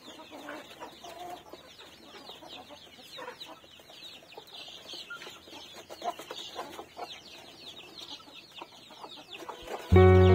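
Adult chickens cluck and chatter busily while being fed termites, a steady stream of overlapping close calls that ends in a sudden loud knock.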